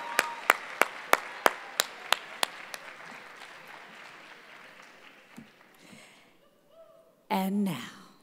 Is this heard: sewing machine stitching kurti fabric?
no